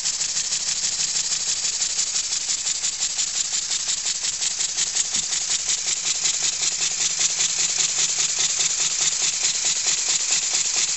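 A twin tandem compound engine runs on compressed air from a compressor tank, producing a fast, even mechanical chuffing and rattling beat that stays loud and steady throughout, with no speech.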